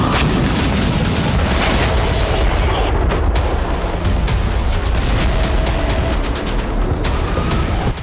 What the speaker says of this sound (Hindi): लेबनान, सीरिया, इराक और गाजा से रॉकेट दागे गए।